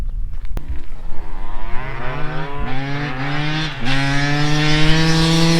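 A Kawasaki KX 500 dirt bike engine with an aluminum frame conversion runs close and loud, its two-stroke note rising and falling through several revs with steady harmonic whine between blips.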